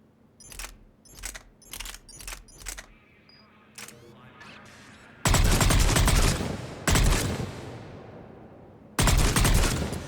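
Assault rifle fire in Mass Effect 3, several sharp separate shots early, then long loud booming bursts of heavy gunfire with weapon handling clicks between, close and punchy.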